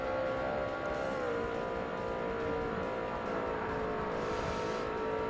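An R-GTS class race car in Forza Motorsport builds speed, a steady high engine whine climbing in pitch under a constant low roar, with no talk.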